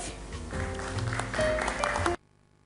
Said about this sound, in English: Let's have a round of applause for Mr. Christoph Kunzendorf.